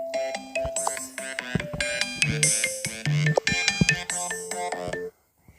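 A bright melodic phone ringtone plays a quick chiming tune for about five seconds, loud and clear, then cuts off abruptly.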